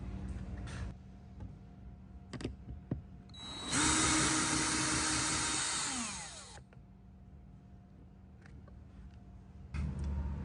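A power drill spins out a 7mm bolt on a Chevy Tahoe door panel in a single close, loud whirring run of about three seconds that winds down at the end, framed by quiet clicks and handling.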